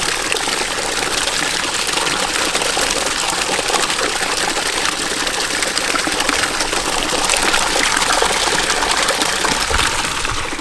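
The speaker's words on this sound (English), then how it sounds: "Dirty water dump." Dirty water from cleaning a long-neglected skating rink is dumped and drains away, a loud continuous gushing rush with steady splashing and no pauses throughout.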